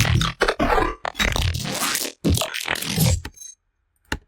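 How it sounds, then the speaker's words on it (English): Choppy synthesized glitch effects: stuttering bursts of gritty noise start and cut off abruptly, ending in a short silence and one final blip. "So I basically just went off and made a bunch of these little glitch things."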